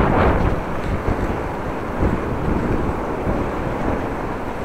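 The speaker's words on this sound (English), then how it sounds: "Sunshine, approximately 11 degrees, but a lot of wind." Heavy wind roars into the microphone of a rider cycling home on a Dutch bike on a sunny, windy afternoon. The low, continuous rumble stays loud and dense throughout, with no talking.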